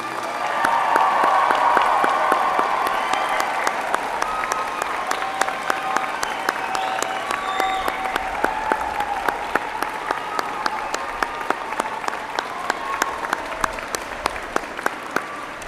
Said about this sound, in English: I ask your friends and family to join me in applauding the graduating class of 2008.